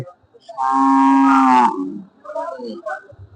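At a large rural cattle market, a cow lets out a single clear, drawn-out moo lasting about a second, followed by nearby voices talking.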